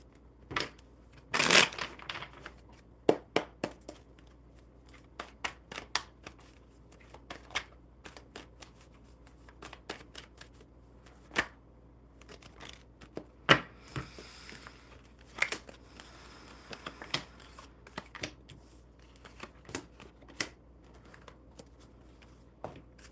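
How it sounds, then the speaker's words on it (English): Tarot cards being shuffled up close, with soft riffles and sharp snapping flicks scattered irregularly across the stretch, plus a few crinkly handling sounds in between. "All right, Amy, let's see what these cards have for you."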